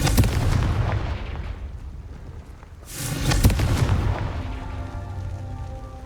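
A Confringo fire spell explodes in the game Hogwarts Legacy, giving heavy booming blasts: one rolling roar that fades, then a second loud burst around the midpoint that decays slowly, with no talking.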